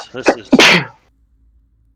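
A single sharp sneeze bursts out right after a few spoken words, followed by near silence.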